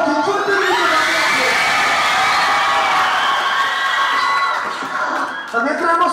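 A large crowd shouts and cheers loudly and continuously, whoops and high voices blending into a sustained roar.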